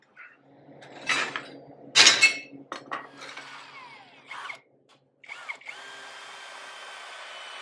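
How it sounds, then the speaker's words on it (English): A power drill spins up in short bursts while boring a hole in a mini trike part, with clinks of metal and a close, whining motor hum that holds steady toward the end. "let's drill a hole in something"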